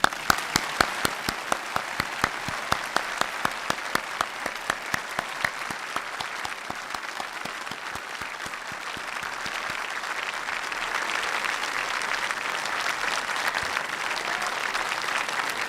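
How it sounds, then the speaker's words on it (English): At an evening event honoring Apollo astronauts Collins and Armstrong and Dr. Kraft, the audience gives a long round of applause: sharp, separate claps at first, swelling into a sustained, thick roar of clapping for about sixteen seconds. "How about a round of applause, folks?"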